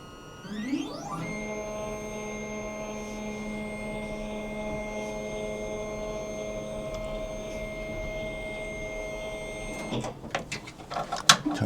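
A Gendex Orthoralix 9200 panoramic X-ray unit lowering with a steady motor whine holding a constant tone for about nine seconds after a rising start, then stopping with a few clicks and clunks, no talk.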